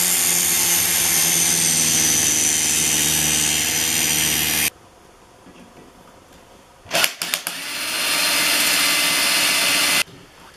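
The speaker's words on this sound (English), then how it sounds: "My drill wouldn't fit for the last hole, so I decided to cut a drill bit to make it fit." A power tool cuts through a steel drill bit during suspension brace installation on a vehicle, giving a loud, harsh high-pitched grinding whine for several seconds, a pause with small clatter, then grinding again.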